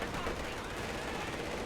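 Machine gun fire from the Company of Heroes 2 real-time strategy game rattles in a dense, continuous burst, mixed with other battle noise and partly under a commentator's voice.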